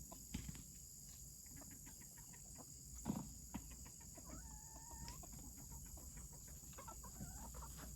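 Two roosters and a hen outside, heard as faint, distant crows and clucks over a steady high whine of insects or crickets in the background.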